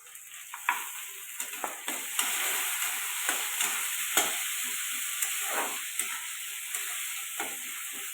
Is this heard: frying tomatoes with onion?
yes